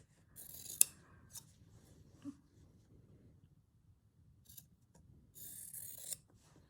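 Scissors snip through fabric close by in quiet bursts, with a sharp click, several short cuts and longer rasping strokes separated by pauses.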